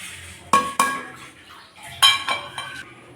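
Metal spoon clanking and scraping in a pot as ghee-fried dry fruits are stirred into thaalikala payasam, a few sharp clinks and rattles in two close bursts, no talking.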